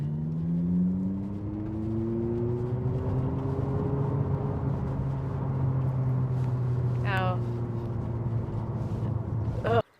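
An Abarth 500e electric car on the move with its synthesized engine sound: a steady humming drone that climbs gradually in pitch over a low road rumble, with brief chirps near the end before it cuts off.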